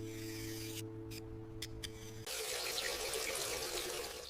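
Fruit being washed under a running kitchen tap at a sink, a steady broadband rush of water that starts abruptly partway through after a quieter stretch with a low hum and faint clinks.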